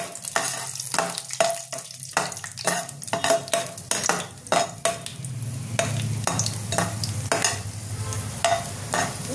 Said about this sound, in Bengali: দেখো এই তেলে আমি কাজু কিশমিশটা ভেজে তুলে নেব।